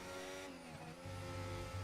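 An F1 25 racing-game car at the Mexico round spins out, its engine note rising sharply as the wheels spin up. The revving is close and loud, with no talk.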